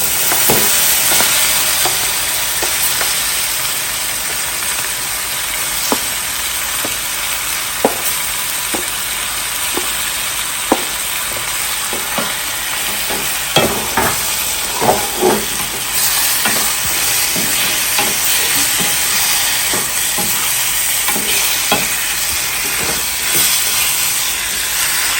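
Cut chicken pieces dusted with turmeric powder sizzle loudly in a pan for Jaffna-style chicken curry, a constant hiss of frying broken by sharp clinks and scrapes of a spoon stirring, with no voices.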